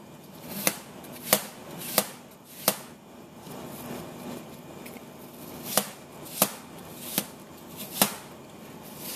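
A knife slices soft apple pieces on a cutting board for an apple pie, giving about a dozen sharp, close chops at an irregular pace over quiet room tone.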